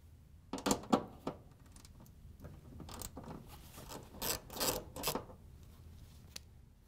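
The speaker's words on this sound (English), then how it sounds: "We're going to use a 3/8 inch socket with a ratchet to take off the nuts." A 3/8 inch socket ratchet loosens nuts on a Whirlpool appliance terminal block, giving several close bursts of quick ratcheting clicks with short pauses of faint handling noise between them.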